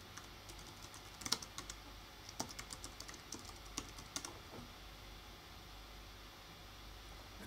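Quiet typing on a computer keyboard while entering a sudo password at a shell, a short burst of soft key clicks over steady background hiss, then quiet.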